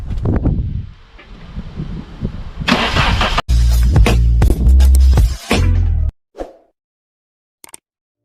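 A rebuilt Vauxhall Corsa B C20LET engine cranks, catches and roars to life loudly up close for its first start, revving unevenly for a few seconds before cutting off abruptly, followed by brief clicks.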